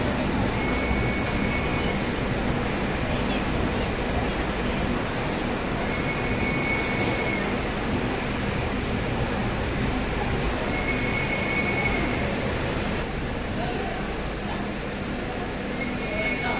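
A steady loud rumble of the Pandian Express train departing Chennai Egmore with rattling carriages and occasional faint squeals, continuous throughout with no clear speech.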